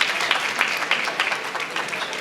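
Audience at a Marathi kirtan celebration clapping to welcome a revered mahant, a steady dense round of applause throughout, moderately loud and close.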